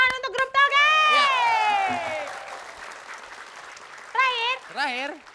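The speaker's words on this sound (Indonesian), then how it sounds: "Tepuk tangan untuk grup toge" Audience applause for the bean sprout group on a comedy variety TV show, rising into a loud, sustained wash of clapping while excited voices call out over it, with a second brief burst near the end.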